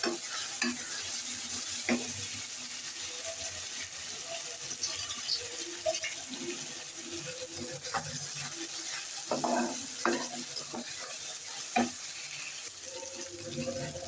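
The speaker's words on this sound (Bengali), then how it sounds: "রসুনটা ভাজা হয়ে গেছে" Garlic fries in a pan for a broiler chicken curry: a steady, close sizzle and hiss runs throughout, broken by occasional scrapes and clicks of a utensil stirring against the pan.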